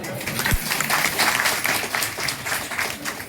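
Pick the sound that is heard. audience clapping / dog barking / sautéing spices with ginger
audience clapping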